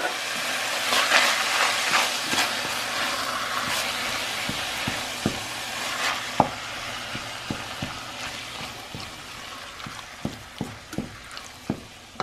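A ground beef mixture with refried beans and salsa fries in a pan, making a dense, close sizzle broken by sharp utensil scrapes and taps, thickening toward the end.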